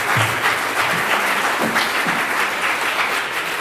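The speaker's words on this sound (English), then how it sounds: "One more round of applause for Ndumi" Steady, full applause from an audience at an evening ceremony rolls on evenly, loud and close, with no talking over it.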